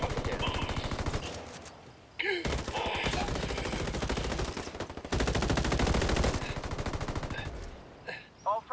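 Loud, close gunfire in Ghost Recon Wildlands, with long rapid machine-gun bursts and crackling volleys that fill the stretch, broken by brief pauses, with shouted voices mixed in among the shots.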